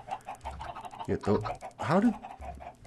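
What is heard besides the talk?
chickens clucking in Minecraft video game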